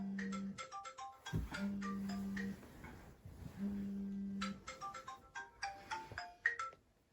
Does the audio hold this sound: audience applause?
no